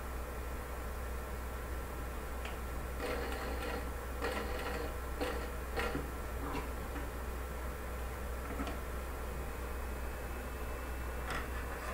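Steady mechanical whir of a sewing machine stitching a quilted placemat with a turkey appliqué, running continuously at low level with faint ticks and small clicks over a constant hum.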